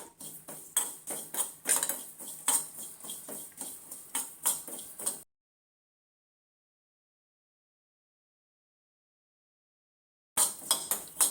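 Poppy seeds and cardamom dry-roast in a pan, giving rapid dry ticking and clinking like a spoon stirring against metal, then a long silence before the ticking resumes briefly.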